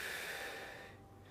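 A slow, soft exhale of breath during a seated stretch workout class for seniors, close and quiet, fading gradually toward the end with no talk over it.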